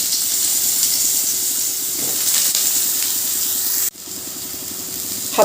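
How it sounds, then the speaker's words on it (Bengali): Eggplant pieces fry in hot oil in a wok, giving a steady, moderate hiss and sizzle with faint clatter. A sharp drop comes partway through, then the sizzle resumes. "বেগুনগুলো ভেজে নেবো"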